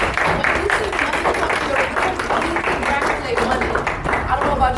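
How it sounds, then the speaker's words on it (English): Attendees at a first-time homebuyer workshop give a round of applause, loud dense clapping sustained throughout with voices mixed in. "Can we give her a round of applause?"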